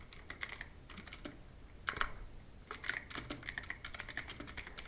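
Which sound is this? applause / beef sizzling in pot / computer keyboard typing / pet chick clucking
computer keyboard typing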